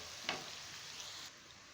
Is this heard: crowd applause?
no